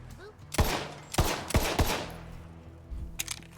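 Shots fired at a hat in the video game Borderlands 3: a handful of sharp, loud gunshots in an uneven rhythm, four clustered early and one more later, over a low game hum with no talk.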